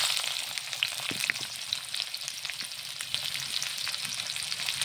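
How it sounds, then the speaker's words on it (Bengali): Onions frying in hot oil, a steady close sizzle with scattered small crackles and pops, fairly quiet and without voices. "এখন আমি পেঁয়াজটা দিয়ে দিলাম তেলে।"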